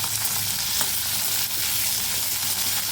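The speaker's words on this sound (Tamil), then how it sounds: "இது எல்லாத்தையும் ஒன்றா போட்டு கொஞ்சம் நல்லா வதக்கி எடுத்துக்கணும்" Onions, coriander and spices sauté in hot oil for an egg gravy, giving a dense, constant close-up sizzle and crackle that holds steady for the whole stretch with no voices.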